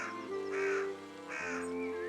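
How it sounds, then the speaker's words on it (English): A crow in the video game Pentiment caws loudly twice, each call a harsh drawn-out rasp over a faint steady background tone. "That crow is loud as hell."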